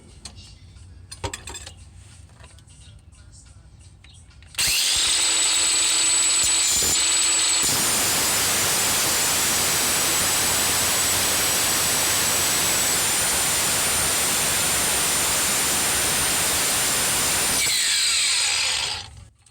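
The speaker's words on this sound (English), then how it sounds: "use my grinder to cut that bolt" An angle grinder cuts the rusted bolt head off a vehicle's exhaust during a partial exhaust replacement. After a few quiet seconds, a loud, steady, harsh whine runs without a break for about fourteen seconds, then cuts off.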